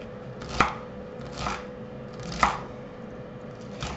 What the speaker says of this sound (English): I tend to chop it up fairly finely